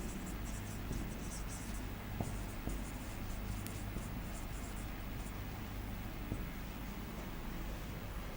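Writing on a board during an English grammar lesson, a faint continuous scratching under steady background hiss, with no talking.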